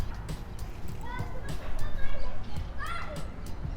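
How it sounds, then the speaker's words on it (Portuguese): Children shout and call out nearby, their high, excited voices rising in bursts over a busy outdoor background with scattered knocks and footsteps. "Não sei se vocês estão escutando, mas tem umas crianças gritando aqui."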